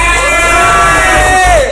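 Audience in a studio talk show bursts into loud, sustained cheering and whooping for about two seconds, a dense crowd roar with no clear clapping rhythm.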